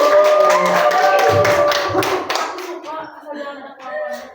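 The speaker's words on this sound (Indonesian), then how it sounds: "Tepuk tangan buat Dewi." Classroom clapping during a microteaching lesson, a burst of hands clapping over a sustained singing or chanting voice, then fading into scattered claps and quieter voices.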